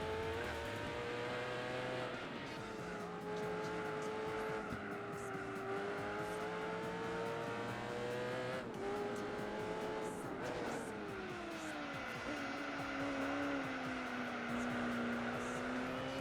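An all-wheel drive car racing in the game Gran Turismo 4 on PS2, its engine droning steadily and rising and falling in pitch through gear changes, loud and continuous with no talk over it.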